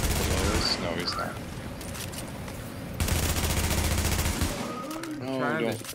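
Gunfire in the video game The Division aimed at a tank, bursts of rapid shots under game effects and background music, loud at the start and again midway, with no talk.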